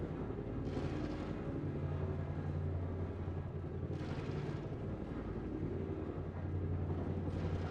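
The Caterpillar spaceship in a video game gives a deep, steady engine rumble that drones continuously, with periodic whooshing swells rising every few seconds, and no voices.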